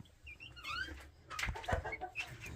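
Young guinea fowl keets peeping and chirping from beneath a brooder, a cluster of high, rapid little calls with some soft clucking, close and steady throughout.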